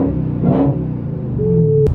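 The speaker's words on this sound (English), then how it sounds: "I wanna let you guys hear the car." A car's engine hums and rumbles steadily while driving, with a low revving drone throughout and a brief sharp click near the end; no talking is heard.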